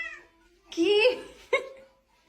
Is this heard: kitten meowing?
yes